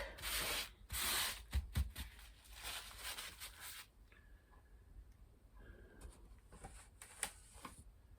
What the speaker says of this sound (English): All I'm doing is scraping off some paint